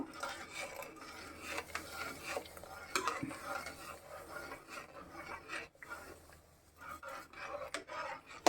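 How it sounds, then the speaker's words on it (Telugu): A spoon stirs a coconut kudumulu mixture in a pot, giving continuous close scraping and rubbing with occasional light clinks against the metal, with no talking. "కొంచెం సాల్ట్ వేసుకుందాం బాగా తిప్పుకుందాం"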